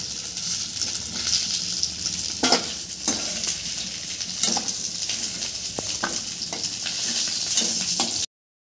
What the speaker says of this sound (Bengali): এবার আমি ভেজে নেব মাছটা